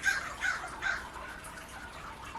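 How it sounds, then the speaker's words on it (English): Several crows caw outdoors in a few harsh, spaced calls over steady background hiss, moderately close, with no talking. "I'm pretty sure those are crows"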